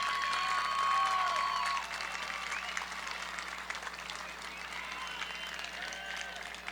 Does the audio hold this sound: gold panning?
no